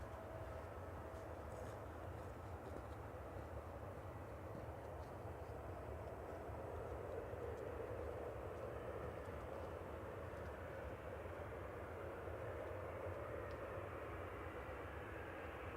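A Qatar Airways jet departs Manchester Airport on a grey day, its engines a faint, distant, steady rumble that swells slightly midway, continuous with no voices.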